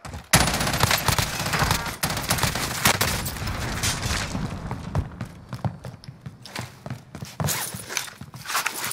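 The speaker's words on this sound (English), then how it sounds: "Taking fire over here." Heavy gunfire in a video game shooter, a loud nearby fusillade of overlapping shots and bursts that continues in uneven clusters across the whole stretch, with no talk over it.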